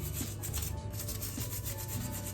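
A brush scrubbing a cooker hob during routine cleaning, giving a continuous close rubbing, scratching sound with steady back-and-forth strokes and no speech.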